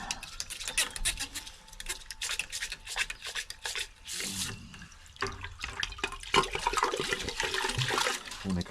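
Water runs and splashes steadily into a bucket being filled to clean antique bottles recovered from a river, with a continuous rushing, gurgling wash throughout.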